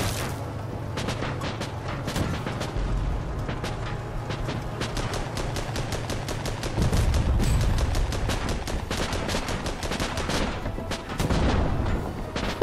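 Dense gunfire and cannon booms from the tank game Armored Battle Crew, rapid rattling bursts layered with heavier deep blasts, loud and nearly nonstop throughout.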